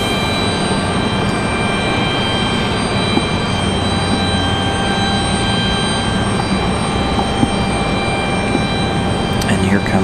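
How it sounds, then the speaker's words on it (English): A Republic Airways Embraer E175 regional jet arrives at Raleigh-Durham International, its steady broadband engine roar filling the scene at close range, with talk faintly underneath. "Here comes that E175."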